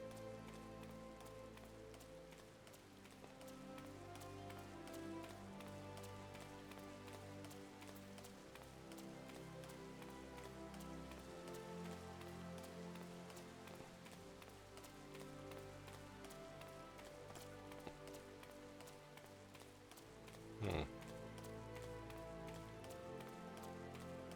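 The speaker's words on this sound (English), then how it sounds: "Damn, now it's raining." Soft, steady rainfall in the video game Final Fantasy XIV, a continuous faint patter sitting under layered background music, with one brief sharp tap near the end.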